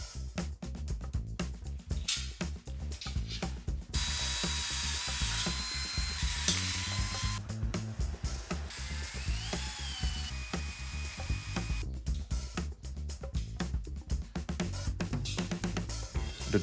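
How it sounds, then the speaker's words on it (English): A whining power drill runs in repeated bursts, drilling holes for a plastic shredder's door, near and loud, with short pauses and clattering handling noises between runs. "Also, use this moment to drill the holes for the door."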